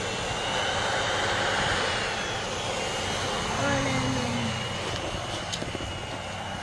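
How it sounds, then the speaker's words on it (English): Steady broadband whoosh from the small air blower of a mini inflatable tube man with a sombrero, cactus style, running continuously at moderate level from start to finish, with a person talking faintly beneath it. "That's how the blower sounds like."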